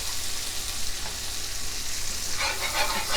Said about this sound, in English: I'm going to use a whisk now. Got my butter breaking down.